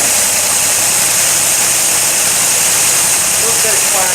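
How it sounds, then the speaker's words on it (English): An engine with sticky valves runs at idle, a loud, dense, steady roar close by, with a voice speaking over it. "A little bit of clack there."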